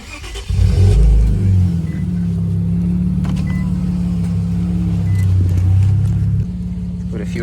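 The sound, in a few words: Infiniti Q50 engine revving with BMS intakes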